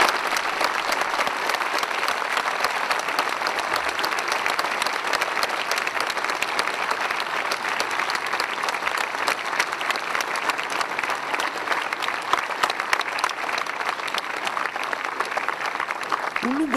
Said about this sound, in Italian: Un lungo applauso ha accolto l'arrivo della bara di Stefano Feniello